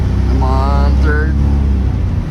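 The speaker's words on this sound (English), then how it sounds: "Oh my God, we got third gear, guys." Van with a GM 4L60E automatic transmission shifting into third gear, a loud steady low engine and road drone from inside the cab with a brief rising whine as the gear changes.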